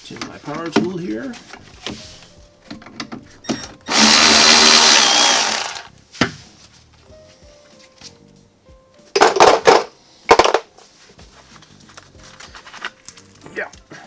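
A power tool runs on a stuck, frozen brake banjo fitting during a rear brake replacement on a Project G20 P10, in two loud bursts, a long one and then a shorter stuttering one, with quieter work noises between them.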